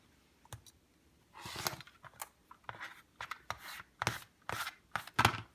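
Fabric for a half-square triangle block is cut along a Bloc Loc ruler, giving short scratchy, clicking bursts in an irregular rhythm, close and fairly quiet.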